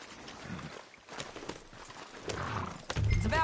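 Horse hooves clip-clop in the Red Dead Redemption 2 game world, a short run of steps under a low ambient bed with a rising, louder stretch at the end that may carry a brief whinny.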